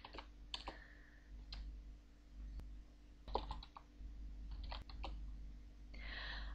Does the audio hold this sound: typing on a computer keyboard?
yes